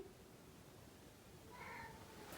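A cat trapped behind a bathroom wall gives a single faint, muffled meow near the end, over a quiet room hum.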